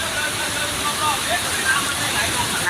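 Waste water pours from a drain pipe at a flooded elephant show arena, a steady broadband rushing and splashing that holds even throughout, with faint voices mixed in.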